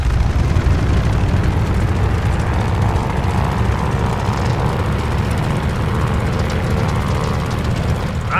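Propeller plane at full throttle for takeoff in Call of Duty Vanguard, a loud steady engine drone with a deep rumble that holds constant throughout.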